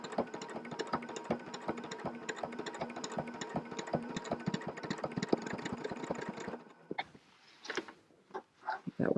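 A sewing machine stitches an appliqué in a fast, steady mechanical rattle of needle strokes for several seconds, then stops, leaving a few soft handling sounds and rustles.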